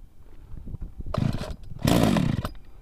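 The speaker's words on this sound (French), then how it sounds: "un petit coup de starter, hein, c'est une tronçonneuse" A chainsaw engine, choked to start, sputters, then roars to full throttle in two loud bursts, close by with no talking.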